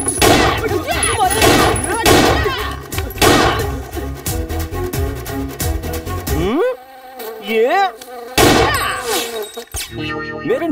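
A housefly buzzes around in a Hindi-dubbed South Indian romantic film scene, a loud, wavering drone that swells and dips over several seconds, broken by sharp hits and brief quiet gaps, with a short spoken word.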